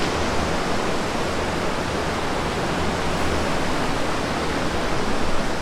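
The Banganga river rushes steadily in a clean, broadband roar, close and constant for the whole stretch with no talk over it.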